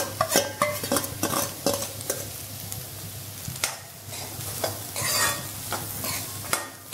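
Chopped onions sauté in lightly melted butter in a pan, giving a soft, continuous sizzle with frequent scraping and tapping from a stirring spoon, close by and without voices.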